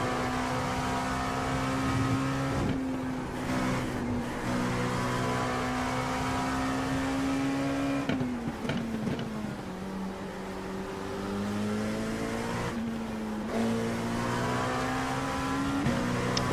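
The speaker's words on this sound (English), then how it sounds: "Hope I can get that F-150 up into 4th gear at Talladega" A Ford F-150 truck engine in a NASCAR racing video game at Talladega drones loudly and steadily, its pitch climbing through gear shifts with brief dips, with no talking over it.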